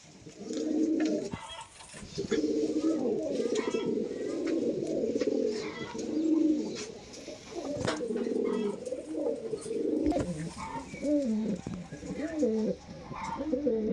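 Large Kaldom pigeons coo steadily up close, deep throaty rolling calls repeating throughout, with faint speech in the background.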